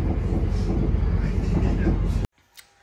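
Inside a moving passenger train, a steady loud rumble of the carriage fills the space for about two seconds, then cuts off abruptly into near quiet with a faint click.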